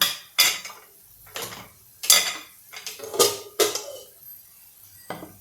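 A metal lid is placed on a cooking pot of cauliflower, giving several loud, close clanks and rattles spaced irregularly across a few seconds, with quiet gaps between.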